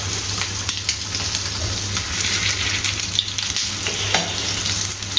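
An egg-coated street-style potato sandwich fries in a pan, a dense, even sizzle close by with scattered light pops and stirring clicks throughout, and no speech.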